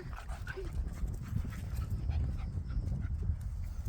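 A dog pants close by in quick, soft breaths, with faint whimpers mixed in.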